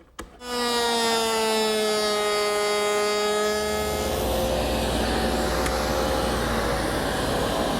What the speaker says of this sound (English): I've taken a scrap and cut a profile using the bit that's now in the router